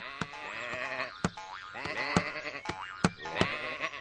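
Several cartoon sheep bleat in overlapping calls, with sharp short bursts scattered throughout, fairly close and lively.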